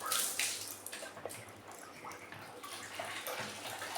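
Water poured from a jug over hair during a hair wash, a soft, continuous splashing and trickling stream, fairly quiet and close, with small drips. No talking.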